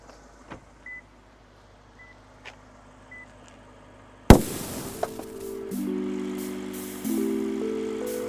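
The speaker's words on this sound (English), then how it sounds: "Let me pop the bonnet." Bonnet of a Lexus GSF with a 5-litre V8 popped open: a sharp loud latch clunk midway after faint ticks, followed by hollow panel rattles and a steady whining tone, close by with no speech.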